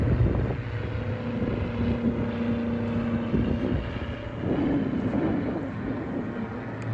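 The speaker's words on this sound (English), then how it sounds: "It's got a plane going overhead." A light propeller aircraft passes overhead near the former Blackpool Airport, a steady droning engine hum with wind buffeting the microphone throughout, moderately loud and continuous.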